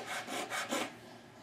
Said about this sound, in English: what we do is sand the pegs basically flat